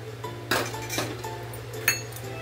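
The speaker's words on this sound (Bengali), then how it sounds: "আরেকটা আমি বাটি দিয়ে দিলাম" Dishes clinking as a bowl is set onto a thali plate, a few sharp close clinks of metal and glass spaced about half a second apart, over a low steady hum.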